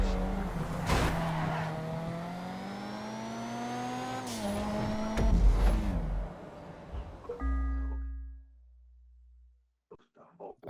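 A fast car in GTA 5 roars along with shifting engine pitch and tire squeal, revving and skidding loudly up close before cutting off abruptly, leaving brief quiet and faint game noises.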